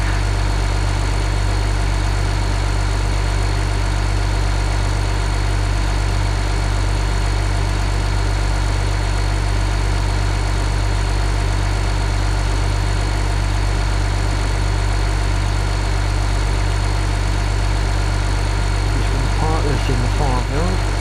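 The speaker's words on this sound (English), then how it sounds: "Go straight across country if you've got a tractor." A tractor engine idles in Farming Simulator 15 on PS4, a steady low, even rumble holding unchanged throughout with no pauses or revving.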